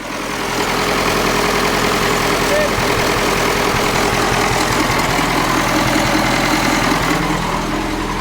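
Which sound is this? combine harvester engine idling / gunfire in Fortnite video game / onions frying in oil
combine harvester engine idling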